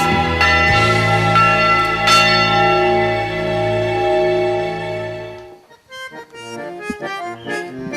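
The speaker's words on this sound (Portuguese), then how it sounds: "torres altas e sinos enormes que soam entre vales e montanhas" Large church bells ring out together in rich, sustained overlapping tones, then the peal thins to scattered individual strikes with ringing decay.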